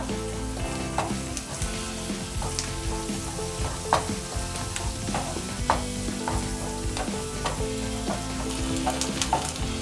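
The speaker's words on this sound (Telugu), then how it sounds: "అల్లం పేస్ట్ వేసుకుందాం పసుపు ఒక్కసారి బాగా కలుపుకుందాం పచ్చివాసన పోయే వరకు" Ginger paste and turmeric sizzle loudly in a hot pan for prawn curry, a steady close frying hiss broken by frequent scraping strokes of a stirring spoon, with no voices.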